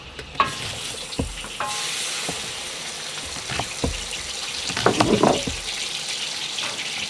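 Hot oil sizzling in a kazan cauldron while cooking Asian plov, a steady frying hiss with occasional stirring clinks and knocks, moderately close and without speech.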